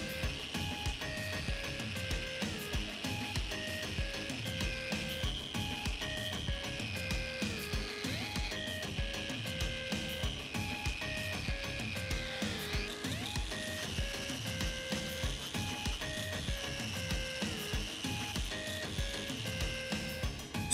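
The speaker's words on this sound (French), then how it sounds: "à la brosse métallique montée sur une meuleuse d'angle" An angle grinder fitted with a wire brush scrubs cast-iron stair balustrade parts, a steady loud whine with rhythmic scraping pulses as the brush bites and lifts, running continuously and close with no talk.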